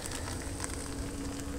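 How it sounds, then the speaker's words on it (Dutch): An egg fries in a pan with a soft, steady sizzle and faint crackling spatters that continue evenly throughout, quiet and close, with no talking. "Ik ben het eitje aan het bakken."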